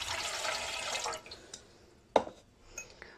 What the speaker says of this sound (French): je commence par mettre l'eau